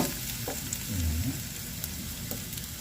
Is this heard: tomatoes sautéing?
yes